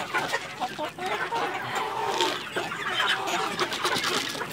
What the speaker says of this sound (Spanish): Acá tenemos a las gallinas que ya están a punto de poner huevo.